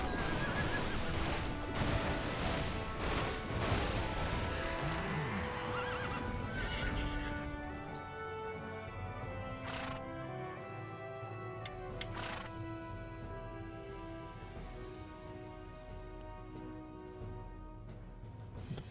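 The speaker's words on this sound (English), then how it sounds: "It's a good horse." A video-game horse whinnies loudly at the start amid clip-clopping hooves and busy game effects, followed by quieter game sounds and occasional thuds.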